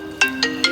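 A mobile phone rings with a short synthetic ringtone: three bright electronic chirps at an even quick pace, loud and close, with no talking over them.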